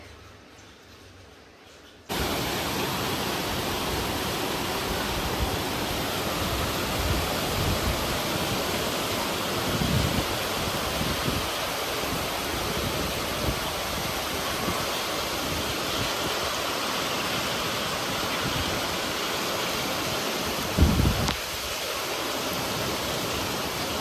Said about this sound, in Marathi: जशी खिडकी उघडते तसे पावसाचा आवाज ऐकायला येतो